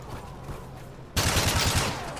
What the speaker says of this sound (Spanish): Está disparando arriba, aquí a la orilla.